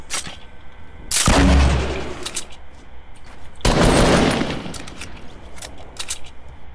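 Two heavy sniper shots crack in a video game, each loud and sharp with a rumbling tail that fades over a second or two. About two and a half seconds separate them, and quieter game noise fills the gaps.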